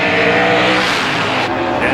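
Race cars roar past on the back straightaway at Delaware Speedway, a loud, dense engine wail that surges and then fades slightly as the pack goes by.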